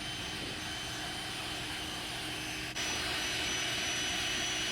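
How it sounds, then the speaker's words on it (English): A steady, loud whooshing roar from an electric leaf blower blasting water off a jetski, held close and continuous, with a brief dip and shift in tone partway through. "I'll grab my electric leaf blower and I'll just try and get the majority of the water off of the ski"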